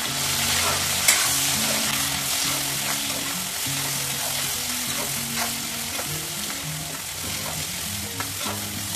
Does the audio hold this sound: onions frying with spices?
yes